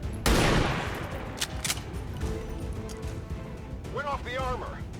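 Automated turrets open fire in the XCOM strategy game: a loud burst of shots that fades into a rumbling tail, followed by chirpy electronic warbles near the end.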